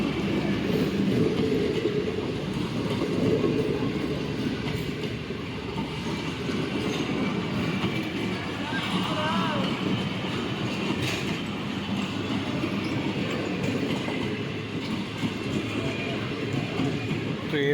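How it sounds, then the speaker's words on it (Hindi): A Pakistan Railways train running from Lahore to Karachi passes Qilla Sattar Shah station, with a steady rumble and rattle of wagons rolling by close for the whole stretch and faint wheel squeal. "ये भी लाहौर से कराची चलने वाली ट्रेन है।"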